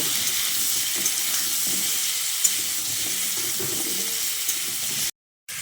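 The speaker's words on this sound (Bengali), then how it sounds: "এবার কুমড়োর মধ্যে অল্প একটু হলুদের গুঁড়ো দিয়ে কুমড়োটাকে লালচে করে ভেজে নেব" Cut pumpkin pieces frying with turmeric powder in a pan, a steady hissing sizzle with occasional stirring sounds, close and even, cutting off briefly to silence near the end.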